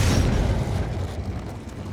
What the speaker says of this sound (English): we notice a couple of explosions going on over there in the background